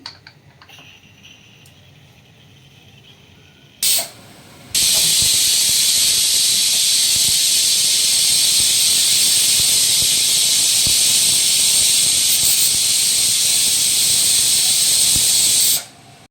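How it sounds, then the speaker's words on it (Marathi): Pressure cooker cooking spiced matar rice lets off a brief sharp hiss, then a loud, steady whistle of escaping steam that holds for about eleven seconds before cutting off abruptly, with no talk. "आता ही शिट्या झालेल्या आहेत."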